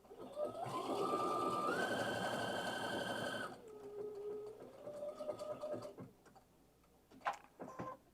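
A Baby Lock sewing machine running a blanket stitch, a fast rhythmic whir for about three seconds, then slower, quieter stitching with pauses and small mechanical clicks.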